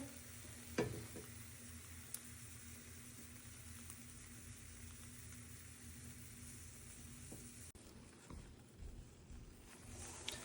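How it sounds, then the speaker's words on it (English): Pancake batter frying in a hot pan, a steady soft sizzle running continuously at low level with a faint clatter near the start and a brief shift in tone toward the end. "So, now I'm making my pancake."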